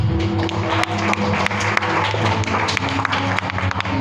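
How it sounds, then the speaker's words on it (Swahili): A church audience applauding, a dense continuous patter of many hands clapping at steady strength with no lull, over a low hum. "Makofi."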